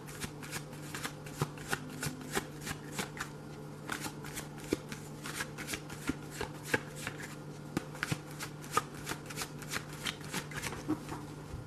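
Tarot cards being shuffled by hand, a close, steady series of crisp riffling snaps repeating at a quick, even rhythm throughout, with a faint low hum beneath.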